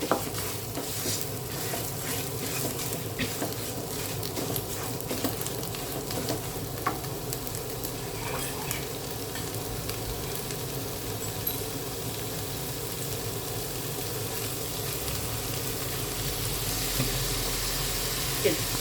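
Food stir-fried with fish sauce in a pan in a home kitchen, a steady sizzle with soft stirring scrapes and occasional clinks.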